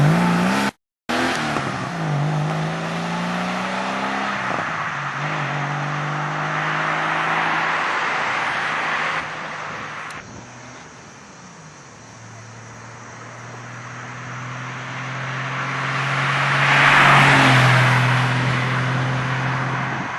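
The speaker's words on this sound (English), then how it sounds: "Here we are with the Fabspeed Maxflo system for all 993 normally aspirated cars." A normally aspirated Porsche 993 Carrera with a Fabspeed Maxflo muffler revs loudly and repeatedly, its exhaust note climbing and falling in smooth sweeps, then settles into a steady drone before a final rising surge.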